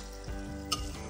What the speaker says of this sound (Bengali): সেই কারণে একটু বাদে বাদে ডালটাকে এরকম নাড়িয়ে দিতে হবে।